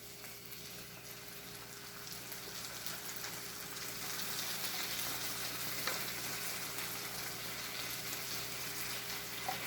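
Sour cream being stirred into peppers and onions sautéed in butter, giving a low, steady sizzle and bubbling hiss that swells slightly partway through, with faint stirring sounds; no talking.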